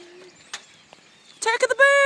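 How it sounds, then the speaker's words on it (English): Birds call outside a house in Toledo, a few scattered chirps followed by a loud burst of bright, repeated calls close by, with a person speaking briefly beforehand. "Attack of the birds!"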